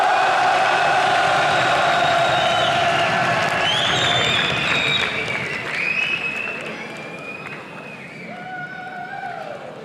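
A large esports arena crowd at a League of Legends match applauds and cheers loudly, a dense wash of clapping with rising whoops and shouts that gradually thins out.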